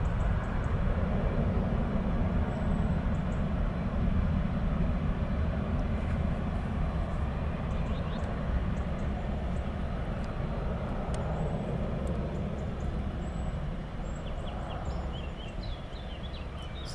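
Aircraft departing from runway 23 at Manchester Airport, a steady distant jet roar and rumble that holds throughout and eases slightly toward the end.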